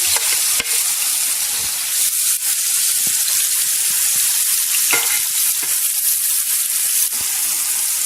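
Tomatoes fry in hot oil for an egg and tomato dish, giving a loud, constant close-up sizzle broken by occasional scraping and stirring knocks.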